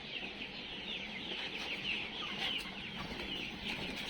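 Tiger chickens clucking softly and steadily at a distance, with a continuous hum of farmyard background noise and no voices.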